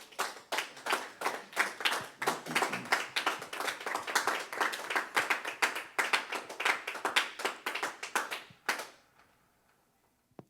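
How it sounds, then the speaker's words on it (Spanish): Church congregation clapping in a steady, fairly sparse rhythm, individual hand claps distinct and close, lasting about nine seconds before stopping abruptly, followed by near silence. "Dele un aplauso a Dios."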